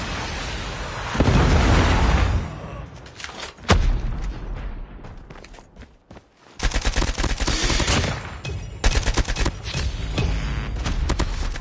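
Predator missile strike in the mobile shooter Call of Duty: Mobile, heard as loud close bursts of gunfire and booming explosions, a brief lull, then dense rapid firing and blasts continuing to the end.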